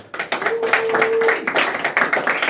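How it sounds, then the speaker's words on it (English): Indoor audience clapping for staffers at a community event on gentrification, a short burst of dense applause and hand claps, loud and close, with a brief whistle in the middle. "I also want you guys to give applause to our staffers"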